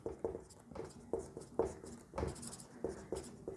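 Chalk or marker strokes on a board during a chemistry lecture, a quick series of short scratchy taps and scrapes at close range with no talk over them.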